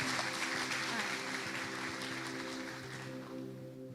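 A church congregation applauds for a missionary, with steady, fairly soft group clapping over a low constant hum, fading a little toward the end.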